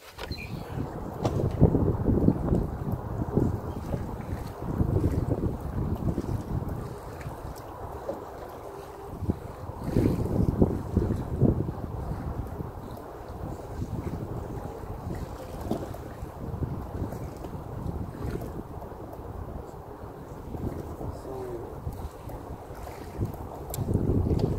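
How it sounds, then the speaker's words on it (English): Wind buffets a fishing boat on Pyramid Lake during a bass tournament, a steady broadband rumble with gusts swelling and easing throughout, close to the microphone with no talking. "The wind keeps blowing"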